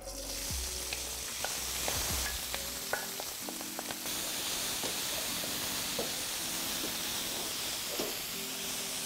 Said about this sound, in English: now it's really noisy with this frying pan